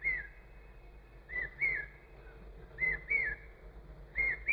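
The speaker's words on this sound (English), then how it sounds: "give your whole mind and heart to that bird that's calling" A single bird repeats a clear, whistled call in short phrases, several times over a few seconds, fairly faint against a low background hum.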